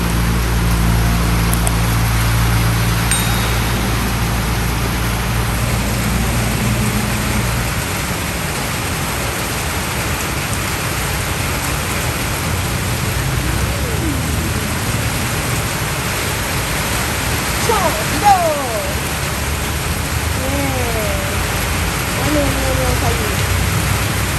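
Steady rain falling and splashing on surfaces, a broad continuous hiss that stays loud throughout, with a low rumble early on and faint sliding tones later in the background.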